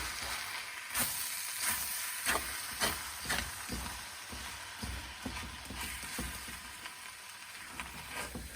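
Traditional fried rice with vegetables sizzling in a pan while being stirred, a steady close hiss of frying broken by the repeated scrape and clatter of the spoon through the mixture, with no talking.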